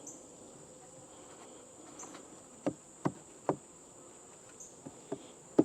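Honeybees buzz steadily around an open hive on a farm, a continuous hum near the listener, broken by several sharp knocks and taps as frames are handled.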